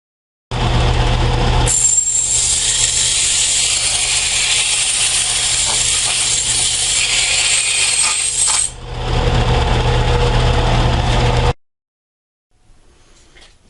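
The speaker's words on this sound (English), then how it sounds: "Now we're going to take the can to the belt sander and smooth off the" Belt sander grinding the sharp trimmed edges of a metal can, a loud steady high whine that runs for several seconds, dips briefly, then cuts off, leaving faint handling noise.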